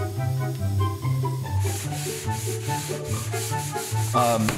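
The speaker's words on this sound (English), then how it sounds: "Sand the entire thing down" Redwood table edge being sanded by hand, continuous rhythmic rubbing strokes, loud and close, with a faint tonal hum underneath and no talking.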